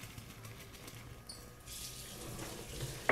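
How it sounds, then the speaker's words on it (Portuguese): Water pouring into a cooking pot to boil pasta, a steady splashing stream that starts quietly and swells into a fuller rush partway through, heard alone. "a gente precisa botar pelo menos 5 litros de água"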